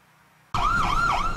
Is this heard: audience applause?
no